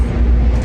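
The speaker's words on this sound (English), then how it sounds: "That is the train that we're taking now." Steady low rumble of a moving passenger train heard from inside the carriage, a continuous loud drone with no talk.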